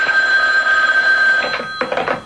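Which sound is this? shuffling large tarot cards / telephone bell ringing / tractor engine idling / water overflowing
telephone bell ringing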